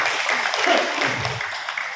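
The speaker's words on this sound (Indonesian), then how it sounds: "Tepuk tangan buat beliau Pak." Crowd at a Halal bi Halal gathering of TPP Wonosobo applauding, a brief dense wash of clapping with voices mixed in.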